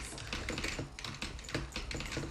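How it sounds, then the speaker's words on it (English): Fast, continuous typing on a computer keyboard, with dense rapid key clicks close to the microphone and no voices. "All you can hear is just my keyboard."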